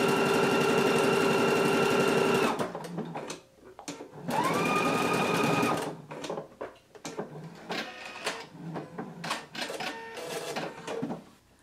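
Sewing machine stitching a buttonhole on a garment, a close, loud, steady whirring drone in two long runs, followed by shorter bursts of stitching and mechanical clicks, with no talk.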